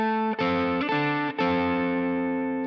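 An electric guitar plays a blues double-stop with A on top and C below through a distorted effects sound, three sustained chords restruck in quick succession, close and alone.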